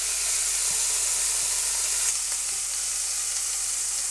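Steak hits a medium-high pan pre-rubbed with olive oil and sizzles steadily: a loud, continuous bright frying hiss with faint crackles and light stirring, no voices.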